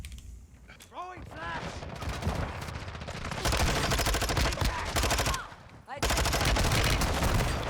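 PP-19 submachine gun firing in Call of Duty Warzone 2, dense rapid automatic bursts that run almost continuously, loud and close, with brief gaps between strings of fire.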